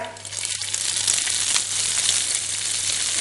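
Garlic and curry leaves frying in hot oil in a pan, a steady bright sizzle and crackle running continuously at close range, with a low hum underneath.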